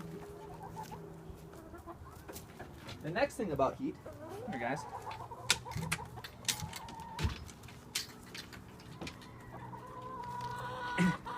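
Chickens cluck and squawk inside a chicken coop with a straw bale wall, several birds close by and busy, while someone talks over them.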